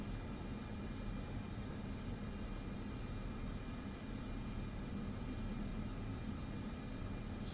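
Idling aircraft engines from a queue of AI planes at an airport in Microsoft Flight Simulator 2024 produce a steady, broadband roar and hum that holds constant throughout, with no voices.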